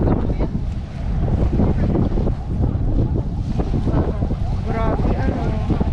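Strong wind gusting across Manila Bay at Dolomite Beach, a loud steady roar and buffeting on the microphone with voices talking faintly underneath.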